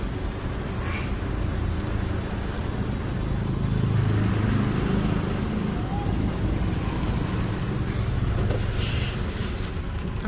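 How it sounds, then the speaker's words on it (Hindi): Waves wash in with a steady, loud rush of surf and water, mixed with heavy wind buffeting the microphone, continuous and unbroken for the whole stretch. "अंदर आ रहा है पानी।"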